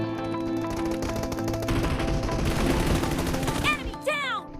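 Rapid automatic gunfire rattles through a PUBG mobile team deathmatch, dense bursts of shots layered with game effects, ending with a couple of sharp chirping sounds.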